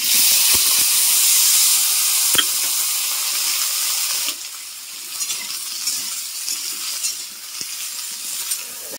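Cut eggplant pieces fry in hot oil in a pan for a Bengali neem begun dish. A loud, bright sizzle fills the first half, then drops to a quieter crackling fry with occasional pops and stirring scrapes.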